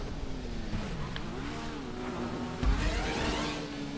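Motorcycle engine in a GTA 5 Online race on PS4, a steady droning whine that rises and falls as it shifts through turns, with a brief louder burst near the end.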